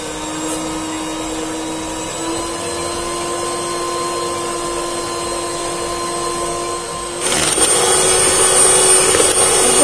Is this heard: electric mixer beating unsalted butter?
yes